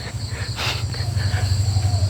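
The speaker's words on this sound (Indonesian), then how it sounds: "ya pagi hari, suara jangkrik, suara hewan-hewan pagi" Crickets chirping steadily on a morning walk near a construction site in Jatinangor, a continuous dense trill with faint insect and bird sounds layered over it.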